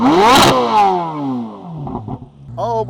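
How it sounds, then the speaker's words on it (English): A stock Corvette C8 flat-plane-crank V8 revs sharply to a high-pitched scream, then falls away and settles to a rough idle before a brief second blip. "let's rev this thing up."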